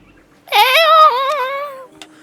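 A single drawn-out cat meow from the video game Cult of the Lamb, loud and close, rising then sliding slowly down over about a second and a half, heard alone against near silence.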